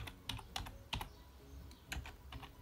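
Typing on a computer keyboard: quick clusters of crisp, close key clicks separated by short pauses, with no talk.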